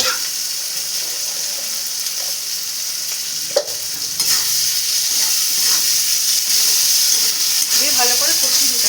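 Curry masala with a little sugar is sautéed in a pan for a chhana kofta curry, giving a continuous hissing sizzle with stirring and scraping close by, and a voice briefly heard underneath.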